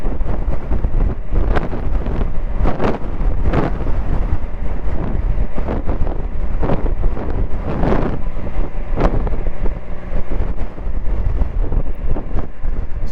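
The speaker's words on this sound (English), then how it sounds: "The wind is really coming through from my left." Loud, steady wind buffeting the microphone on a Can-Am Spyder three-wheel motorcycle ride to breakfast, a continuous rushing roar with gusty bursts throughout and no speech.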